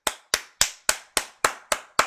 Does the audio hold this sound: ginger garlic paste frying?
no